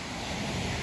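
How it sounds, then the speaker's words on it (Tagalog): Steady wind buffets the microphone at the Grand Canyon in Arizona, a loud, continuous broadband rush with no one speaking. "yun ang hangin"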